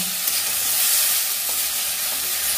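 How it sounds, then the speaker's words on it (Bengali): Tomatoes and greens stalks frying in a pan for a rui fish curry are stirred, giving a steady close sizzle with faint scraping throughout, no voices. "এবার এটাকে ভালো করে নাড়বো, টমেটোগুলো যতক্ষণ না গলবে।"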